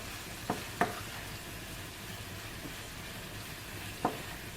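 Seasoned pork fries in a pan with a soft steady sizzle, broken by a few sharp clicks of a utensil against the pan.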